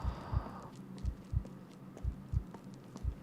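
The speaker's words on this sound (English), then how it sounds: "as you can hear, the heartbeat's still going. It's like still lingering with the player. It's a sound effect that just keeps going on." A heartbeat sound effect in a horror video game, The Paddock: soft, low double thumps repeat steadily about once a second, with a faint hum in the first moment and nothing else over it.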